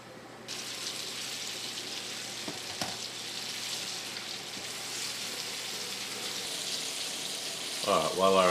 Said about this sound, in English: while our squirrel is frying over here